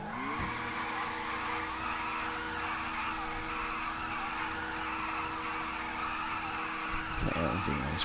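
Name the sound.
motorcycle burnout tire squeal in video game GTA Online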